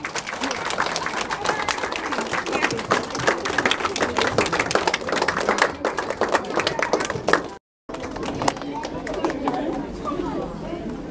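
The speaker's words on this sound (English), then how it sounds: "Let's give them a big round of applause." Crowd applause and clapping with chatter for the craft teachers at a church vacation Bible school event, a dense steady wash of claps under lively talk, breaking off briefly before continuing.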